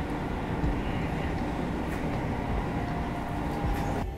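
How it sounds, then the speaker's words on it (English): Interior of a Tokyo train running from Haneda Airport to Shinagawa Station, a loud steady rumble and roar of wheels on rail with faint clanks and a thin high whine. "This train will get you to Shinagawa Station in 14 minutes."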